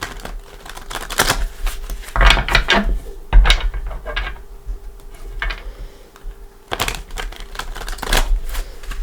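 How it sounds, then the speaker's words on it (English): Tarot deck being shuffled by hand, crisp papery riffling and card slaps in a few quick bursts with short pauses between, close and fairly loud with no talking. "Let's give it a couple shuffles."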